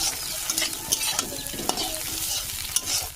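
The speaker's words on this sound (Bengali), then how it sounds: "ডিমটা দেখো ভাজা হয়ে গেছে," An egg fries in a pan close by, sizzling loudly with scraping stir strokes and light clinks breaking through the crackle; no one talks.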